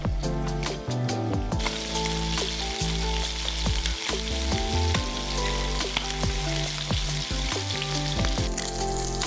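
Loud, steady sizzling of walleye cheeks frying in hot oil, dense crackle with frequent sharp pops and spits throughout, no voices.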